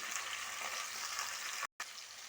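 Curry leaves, dried red chillies and tomato fry in hot oil in a pan, giving a soft, continuous sizzle at low volume with one brief dropout near the end.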